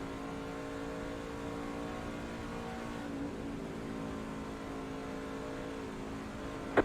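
Race trucks on the Kansas oval roar away at the green flag, a dense steady engine drone with layered harmonics that swells slightly and holds, heard from nearby with no talk over it.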